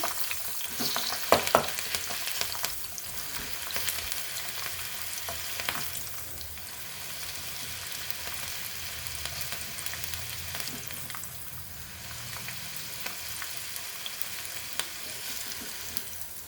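Ivy gourd (dondakaya) pieces frying in hot oil, a constant dense sizzle with occasional sharp crackles and stirring clicks, steady and close throughout, with no talking.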